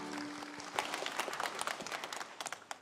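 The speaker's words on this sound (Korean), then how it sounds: "우리 우주 예수님께 영광의 박수 올리겠습니다." A church congregation claps during a Sunday worship service, a soft, scattered patter of many hands that rises briefly and continues at a low level.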